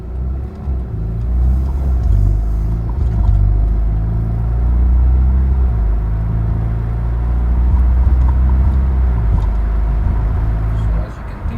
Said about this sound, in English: here's a takeoff from eco mode